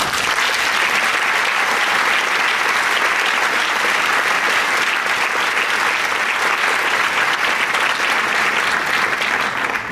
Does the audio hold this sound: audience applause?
yes